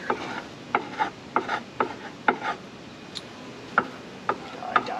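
Honeybees are scraped off a beehive frame in a hive with beetle trouble, giving a series of short, dry scraping strokes at an uneven rhythm, fairly quiet and close.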